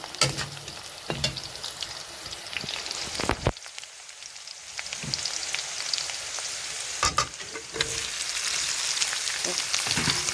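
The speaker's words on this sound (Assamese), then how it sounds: "দি দিছোঁ মাংসখিনি ভালদৰে ফ্ৰাই কৰি লওঁ।" Duck meat sizzles and fries in a pan with almost-cooked onions, a dense steady crackle with brief stirring scrapes and a short quieter gap, close and continuous with no talking.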